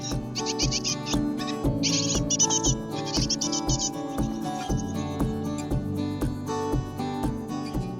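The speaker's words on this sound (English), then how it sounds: "May saw the arrival of a family of coal tits" Coal tits calling in a garden, a family of them giving quick bursts of high chirps in the first few seconds, then quieter calls over a steady rhythmic musical background.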